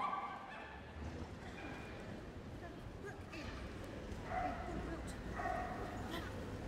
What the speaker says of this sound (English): Cocker Spaniel.